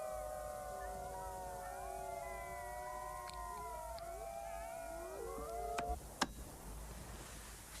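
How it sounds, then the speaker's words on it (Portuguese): Several arctic wolves howl together in long overlapping sustained tones, one deep alpha male's howl dropping in pitch partway through, with a couple of sharp clicks near the end against quiet outdoor background. "É uma sensação muito especial poder observá-los enquanto estão uivando."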